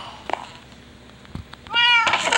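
A single short cat meow from Minecraft rings out close and clear near the end, after a quiet stretch with a few faint clicks.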